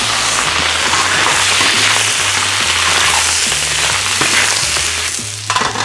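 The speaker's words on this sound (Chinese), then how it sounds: "鹅肉下锅，" Goose meat fries loudly in an iron wok in a rural kitchen, a dense crackling sizzle that holds steady, with a burst of popping and stirring near the end.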